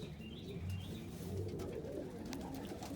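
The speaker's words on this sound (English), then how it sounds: "A pair of saddle homers." Saddle homer pigeons in a breeding loft give low, soft cooing phrases over steady ambient noise, with a few faint chirps and wing sounds in the background.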